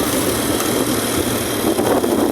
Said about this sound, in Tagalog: Babalik tayo ng third gear para makagamit tayo ng engine brake.